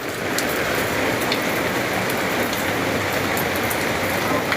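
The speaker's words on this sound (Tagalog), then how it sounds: "Kaya ako naman sugurin yung ulan." Heavy rain pours steadily on surfaces, a dense, loud, unbroken hiss that fills the whole stretch with no letup.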